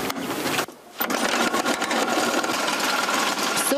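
A small engine on a homemade mini-tractor runs with a close, steady, rapid buzzing chatter that cuts out for a split second early on and then drones on continuously.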